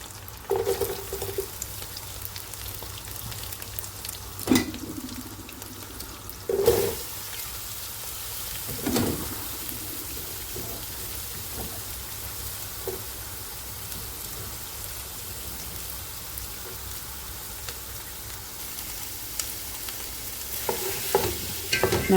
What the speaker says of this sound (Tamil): நல்ல ப்ரௌன் கலருக்கு நாங்கள் வெங்காயத்தை வதக்கி கொள்ளணும்